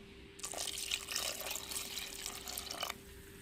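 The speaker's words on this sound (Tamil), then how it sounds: "தேவையான தண்ணி ஊற்றிக்கிறோம்." Water poured from a tap or jug into a pot of fish curry with tomatoes and curry leaves, a steady splashing stream lasting a few seconds, close and fairly quiet.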